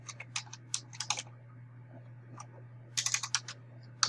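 Fill-in questions are typed on a computer keyboard in two quick bursts of crisp, close key clicks separated by a short pause, over a steady low hum.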